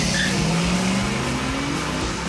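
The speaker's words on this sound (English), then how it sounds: "We got a nice burnout right here" A loud car engine roars steadily while tires squeal in a continuous, rising screech, close and unbroken throughout.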